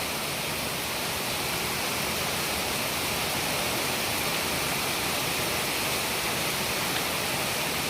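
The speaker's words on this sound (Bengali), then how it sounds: "অঝোর নয়নে বৃষ্টি হচ্ছে একদম দাঁড়িয়ে বৃষ্টি যাকে বলে একদম মারাত্মক বৃষ্টি লেভেলের" Heavy torrential rain pours without pause, a dense, loud, even roar of water with no talking.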